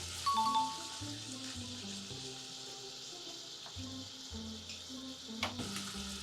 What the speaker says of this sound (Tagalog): Time to time haluin mo para pantay yung pagkakaluto ng pork natin.